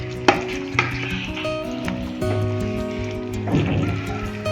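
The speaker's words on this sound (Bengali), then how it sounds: "পনিরটা দিয়েও খানিক নাড়াচাড়া করে এবার এটা দিয়ে দেবো" Paneer being stirred in ghee with capsicum and tomato added, giving a steady sizzle with a few sharp spatula scrapes and knocks against the pan. No one speaks.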